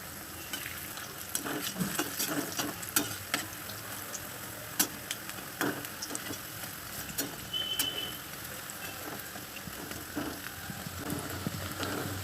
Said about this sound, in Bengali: মিডিয়াম ফ্লেমে আরও এক মিনিট ভালো করে ভেজে নেব